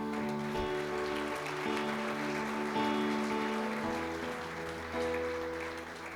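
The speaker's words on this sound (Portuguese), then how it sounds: "Você pode aplaudir o Senhor, irmãos?" A church congregation claps for the Lord during a sermon service, a fairly soft, steady spread of applause heard over sustained keyboard chords that keep playing underneath throughout.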